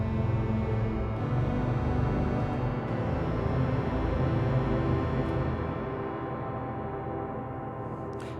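Sonicware Texture Lab granular processor set to short grains, producing a dense, continuous shimmering texture of tiny overlapping fragments at steady loudness that thins slightly near the end, with no talking.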